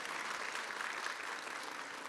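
Audience at a symposium applauding steadily throughout, a dense wash of many hands clapping at moderate distance with no talk over it.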